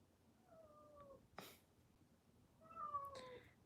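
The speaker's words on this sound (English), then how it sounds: "Meow." A house cat meows twice, a short two-toned call followed by a longer, louder one, with a brief rustle between them in an otherwise quiet indoor room.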